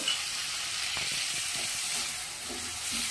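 Winter vegetables fry in a pan for hakka noodles with a steady, bright hiss of sizzling oil, joined by soft intermittent stirring scrapes, close by and without speech.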